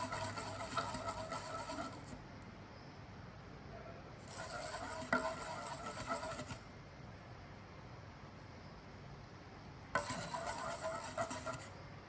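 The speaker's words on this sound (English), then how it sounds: "Keep stirring and looking at the temperature" A mixture is stirred in a lab vessel during a chemistry experiment, with three bursts of scraping, clinking stirring separated by quieter pauses, close but faint over a low background hiss.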